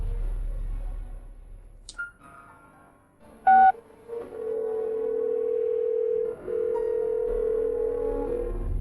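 Telephone keypad tones beep briefly, then a long steady ringback tone hums for several seconds with a short break, quiet and close, as a late-night call is placed.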